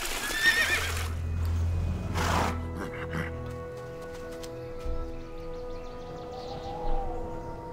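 Horses in the video game Lost Lands 3 neigh in a loud, shrill whinny near the start, followed by a second burst, with soft hoof clip-clops and a sustained tonal background drone.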